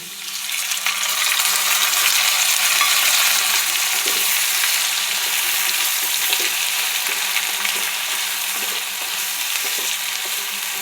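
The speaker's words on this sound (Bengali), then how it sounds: "বাটা মশলা ভাজা হয়ে গেছে" Ground spice paste with a bay leaf frying in a pan of oil, giving a loud, steady sizzle throughout with faint scattered clicks from stirring, and no voices.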